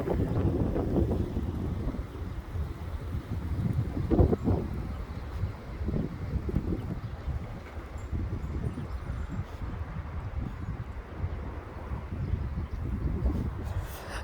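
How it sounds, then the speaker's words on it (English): Strong gusty wind buffets the microphone outdoors, a continuous low roaring rumble that swells and eases in waves, with a heavier gust around the middle, heard alone without talk. "This is some wind we're getting."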